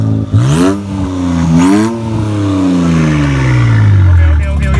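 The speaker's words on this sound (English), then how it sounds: "Let's get a start with no exhaust." An Infiniti Q50S engine with its exhaust removed cranks, catches and revs up twice, then winds down in a long falling drone, raw and unmuffled.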